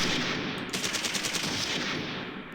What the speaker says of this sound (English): Just keeping cover fire on the enemy.